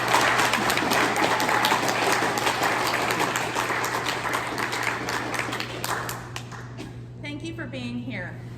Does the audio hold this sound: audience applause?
yes